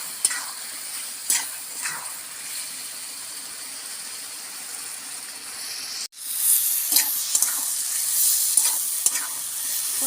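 Papaya and potatoes sautéing in a pan, a continuous sizzle punctuated by clicks of stirring, the frying hiss jumping louder after a brief break midway.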